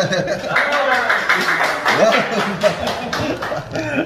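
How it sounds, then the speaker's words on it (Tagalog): Clapping from a small group at a ceiling painting project site, a quick scattered patter of hands mixed with laughter and voices chatting over it. "Yeah, okay, palakpak."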